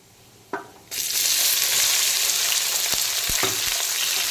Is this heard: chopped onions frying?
yes